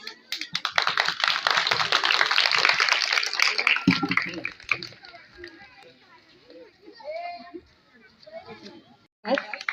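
Children and adults clap and cheer at a village school's Independence Day function: dense, loud applause mixed with children's voices for about four seconds, then fading into scattered chatter and bird chirps, with a brief burst of clapping at the very end.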